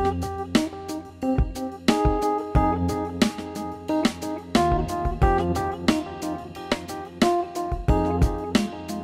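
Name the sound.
MIDI part with groove delay effect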